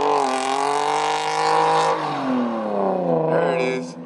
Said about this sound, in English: try revving it to a six or five or six